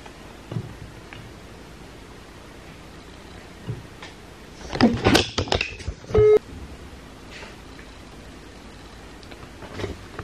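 A telephone dialing a call, with a cluster of short tones and clicks in the middle followed by a steady beep, faint rustling before and after.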